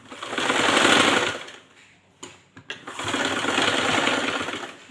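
Sewing machine stitching cloth in two loud, sustained runs of rapid mechanical whirring, separated by a short pause with a few clicks, close and with no talk over it.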